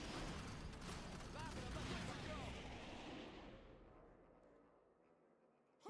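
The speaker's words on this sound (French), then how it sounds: "Claude François, tirez un max. Fatal, le feu" Troops unleash dense, continuous weapons fire in the strategy game Starship Troopers Terran Command, a loud rattling barrage of overlapping shots and blasts that thins out and fades toward the end.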